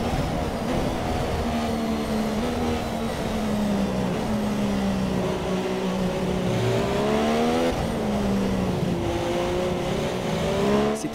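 Formula 1 race cars scream through a Grand Prix start in the video game F1 2017, with a continuous loud, high engine whine rising and falling in pitch through gear changes and no voices.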